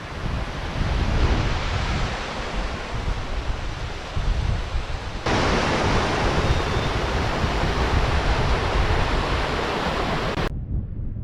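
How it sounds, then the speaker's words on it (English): A small waterfall on a Scottish hillside, a loud continuous rush of falling water close to the microphone with some wind buffeting, steady broadband roar throughout. "Lovely wee falls here."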